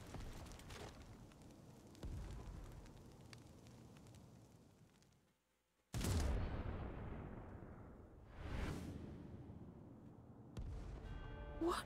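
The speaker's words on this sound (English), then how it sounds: "They're just gonna shoot you again." Gunfire and explosive blasts in a Final Fantasy XIV Dawntrail cutscene: heavy booming bursts with rumbling tails, a sudden silence before a loud blast, then more rolling detonations and clatter.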